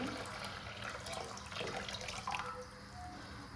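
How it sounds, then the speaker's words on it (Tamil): Water heating in a pot on the stove for basmati rice kheer gives a steady, broadband rush with small bubbling pops, continuous and fairly close throughout. "தண்ணி வந்து ஒரு நல்லா பாயில் ஆகி வருது பார்த்தீங்களா"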